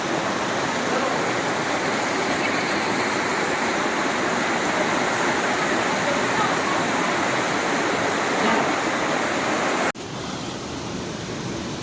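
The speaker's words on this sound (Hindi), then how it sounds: "यहाँ देखिए एक वाटरफॉल है" A waterfall roars inside a cave at the Khudiya Rani shrine, a loud continuous rushing wash of water that fills the space, then drops abruptly to a slightly quieter level near the end.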